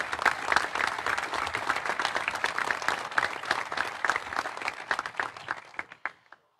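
Audience at a Coimbra political event presenting candidates for the parish councils breaks into dense, sustained applause. Many hands clap steadily before the clapping thins into scattered claps and dies away.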